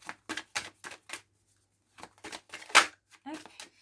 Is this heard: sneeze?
no